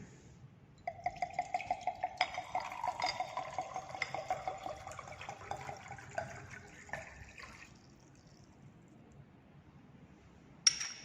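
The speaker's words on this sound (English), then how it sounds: "And transfer the solution into the beaker." A solution of Mohr's salt is poured into a glass beaker, a soft trickle of liquid with a run of light, rapid ticking and clinks, fading to quiet and ending in a sharper clink.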